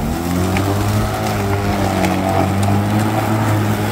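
Battery-powered, self-propelled electric mower cutting through overgrown grass, a loud steady motor hum with low droning tones and rustling, close by and without speech.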